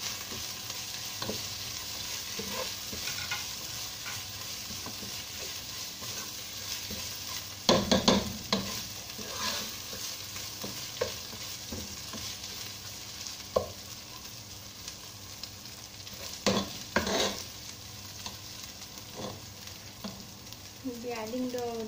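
Slit green chillies and curry leaves sizzle in hot oil for a Kerala meat fry, a soft continuous crackle with bursts of louder stirring and scraping, plus a few light spoon knocks.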